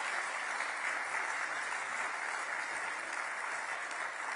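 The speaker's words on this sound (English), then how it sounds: "Give it applause" Sustained applause from a conference audience at a climate summit, steady dense clapping with no pauses, filling the room evenly throughout.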